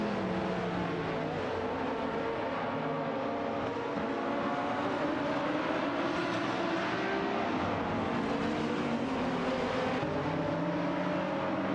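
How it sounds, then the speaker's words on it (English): Engines of GT race cars in a racing video game, including a Jaguar XKR GT3 and a Dodge Viper GT2, drone and whine together in a steady, loud pack with shifting pitch for the whole stretch, with no talk. "MD162 is piloting a Jaguar XKR GT3 while Einfried Mergerus is behind the wheel of a Dodge Viper GT2cc."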